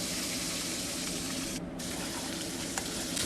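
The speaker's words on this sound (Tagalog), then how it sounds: "Lagyan po natin ng isang basong tubig" A glass of water poured into a pan of gravy for fried chicken, a loud steady gushing splash that runs continuously, close up.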